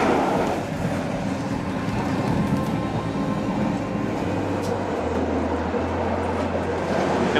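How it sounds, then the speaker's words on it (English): Passenger train riding from Aerodrom station toward Podgorica, Montenegro, heard from inside as a steady low rumble of wheels and carriage with a droning hum building in the second half, close and continuous. "We got on the train."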